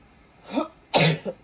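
A woman sneezes, a small stifled burst followed by a louder full sneeze and a brief trailing catch, close and alone with no talk.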